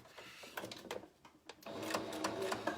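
A sewing machine back stitches on a cloth face mask in short, quiet bursts, with clicks and pauses of fabric handling before a steadier run of stitching in the second half.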